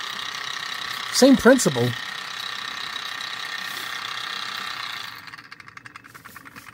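Magnetic lab mixer running rough, a steady mechanical whir with a slightly uneven rattle, heard at close range under a brief spoken remark early on, then tapering and fluttering toward the end.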